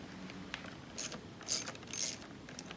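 Bolts on a Maverick MT motorcycle clutch are nipped up with a ratchet, giving a few quiet, quick clicking bursts close by against a faint background.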